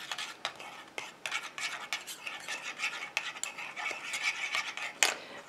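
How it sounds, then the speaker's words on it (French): A utensil stirs urea into almond milk in a bowl, repeated scraping and clinking strokes in an irregular rhythm, close and moderately loud, ending with a sharper knock. "je vais déjà incorporer mon urée à mon lait d'amande pour qu'il se mélange bien"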